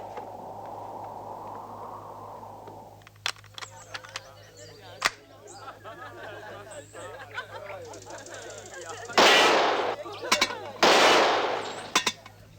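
Cartoon gunshots at a shooting contest, a few sharp cracks ringing out among background sounds, followed by two loud bursts of rushing noise near the end, with a voice talking over parts of it.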